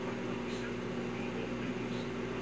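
A microwave oven heating tortillas gives off a steady, even mechanical hum, with voices talking faintly over it.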